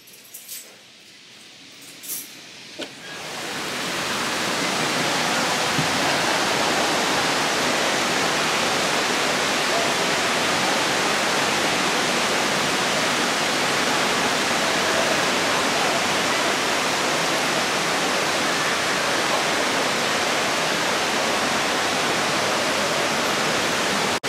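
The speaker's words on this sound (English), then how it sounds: "the view is so pretty, and it has like a really cute waterfall" A small waterfall roars as a steady, loud, broadband rush that starts after a few seconds of quiet handling noises and continues unbroken.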